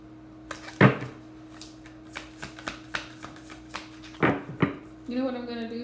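A deck of thick card-stock cards being shuffled close up, with crisp riffles and sharp snaps at irregular intervals and a final longer ruffle, while a person speaks.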